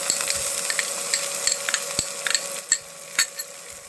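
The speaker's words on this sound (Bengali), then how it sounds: "এই তেলের মধ্যে আমি দিয়ে দেবো পেঁয়াজ কুচি" Chopped onion sizzles and crackles steadily in oil in a pan, with small pops and the occasional scrape of a utensil stirring. Nobody speaks.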